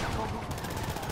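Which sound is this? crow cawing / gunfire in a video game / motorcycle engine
gunfire in a video game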